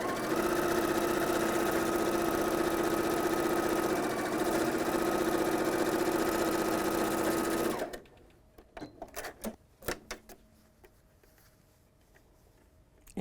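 A sewing machine runs steadily and close for about eight seconds, stitching a quilt block seam with a constant whirring hum, then stops, leaving quiet clicks and fabric handling.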